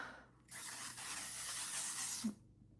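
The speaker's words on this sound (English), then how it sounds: "So I am going to go in and give it a good spray with the L'Oreal Infallible 3-second setting mist." A continuous close hiss of L'Oreal Infallible 3-second setting mist sprayed onto a face, lasting nearly two seconds and ending with a faint click, with no talking.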